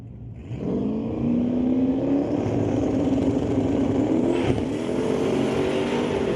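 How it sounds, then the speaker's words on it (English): Two Mustang drag race cars launch together at a raceway, a loud sustained engine roar that climbs steadily in pitch as they accelerate away. "Dennis Drummond and Brad Thomas bringing up the pair of Mustangs."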